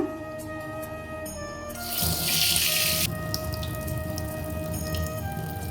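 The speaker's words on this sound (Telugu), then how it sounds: "ఇప్పుడు మీకు ఈ విగ్రహాలు కడిగి చూపిస్తాను" Silver idols are washed under a running tap at a sink, with a steady trickle of water that swells into a louder splashing burst for about a second before settling back.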